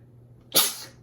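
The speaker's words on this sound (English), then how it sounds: "I feel like I have to sneeze." One quick, close sneeze bursts out of near silence, breathy and hissing, then fades away.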